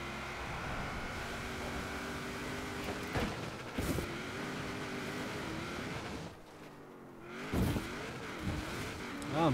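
A player-built car driven in the racing video game Forza Horizon 4, engine droning and revving through gear shifts with rising and falling pitch, steady and fairly loud, with a brief tire noise.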